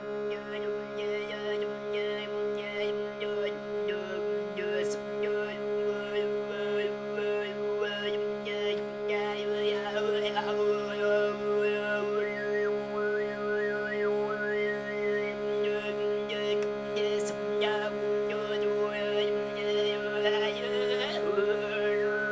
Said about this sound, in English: Khoomei, and Sygyt with the Shruti mixed together would sound like this,